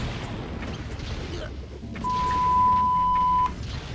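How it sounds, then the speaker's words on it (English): A single steady censor bleep, a pure electronic tone lasting about one and a half seconds, sounds over a voice amid game sounds and background noise. "it's a bleep sound again"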